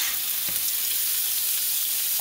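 Seasoned shrimp dropped onto sautéed onions in a pan, giving a loud, steady, close sizzle that holds evenly from start to finish with no talk.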